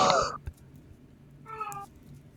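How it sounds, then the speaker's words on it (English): A cat gives two short, plaintive meows about a second apart, reasonably close, over a low indoor background hum. "The cat sounds very disappointed in us."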